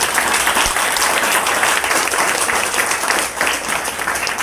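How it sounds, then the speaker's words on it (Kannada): Loud, sustained audience applause at a kindergarten founder's event, dense clapping filling the whole stretch without pause. "ಒಂದು ಚಪ್ಪಾಳೆ ಬರುತ್ತೆ"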